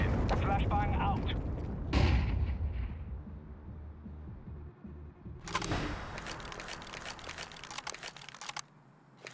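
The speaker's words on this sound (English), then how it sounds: "Flashbang out." A flashbang grenade detonates in Counter-Strike 2 with a sharp, loud burst, followed later by a dense, bright crackle of game action, with players' voices and keyboard clatter in the mix.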